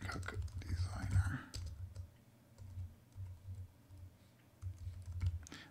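Text typed into a markdown editor on a computer keyboard, light scattered clicking with soft breathy murmuring over a low rumbling background, close and moderately quiet.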